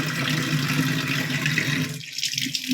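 A kitchen tap runs steadily to rinse green chilies, a continuous close hiss of flowing water that thins out briefly near the end before splashing again.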